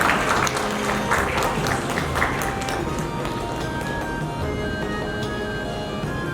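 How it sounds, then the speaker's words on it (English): A crowd at a doctors' award ceremony applauds steadily and fairly loudly, dense clapping sustained throughout with some faint murmuring beneath. "A big round of applause for Dr. Rashi."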